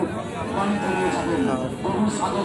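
Cattle, including Sahiwal and Brahman cross bulls, lowing at the Raniganj cattle market, with deep moos rising over a steady murmur of people talking nearby.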